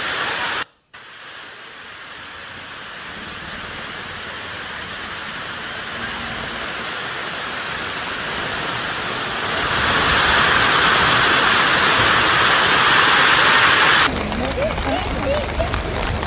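Heavy monsoon rainwater in Gujarat pours down a flight of stairs like a waterfall, a loud, steady, roaring rush that continues throughout and swells slightly louder partway through.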